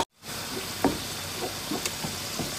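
Tomatoes, crushed chili and green chilies sizzling in a pan of namkeen gosht, a steady soft frying hiss with a few light pops and stirring knocks, close and fairly quiet, no talk.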